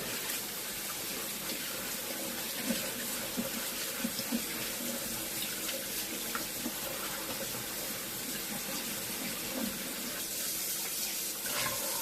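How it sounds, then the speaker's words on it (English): Tap water runs steadily over dandelion leaves being rinsed in a sieve, a continuous splashing wash with small irregular spatters and no talking. "Give a bit of a wash. Make sure there's no bugs on there. So I'll put them through a sieve."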